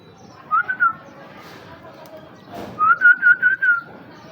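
Short bright whistled chirps from a bird, one brief burst followed by a longer run of quick repeated notes, fairly close over a quiet background.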